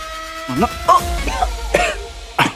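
Several short, harsh coughs in a quick irregular burst, close by.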